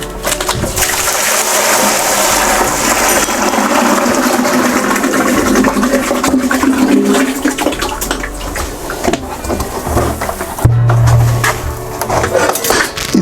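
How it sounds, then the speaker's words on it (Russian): Corn mash with grain is poured into a still pot, a heavy, sloshing rush of thick liquid and solids that runs loud and continuous, with a few knocks and thuds near the end. "Теперь можно перелить все вместе с дробиной."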